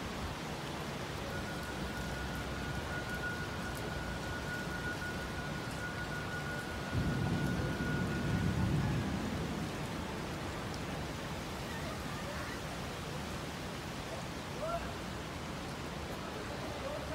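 A DANA thunderstorm brings a steady, dense hiss of heavy rain throughout. A low rumble of thunder swells and fades near the middle.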